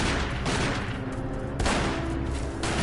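Samurai Edge pistols fire in a Resident Evil game set in the Arklay Mountains: loud, dense volleys of gunshots in two sustained bursts that fill the scene.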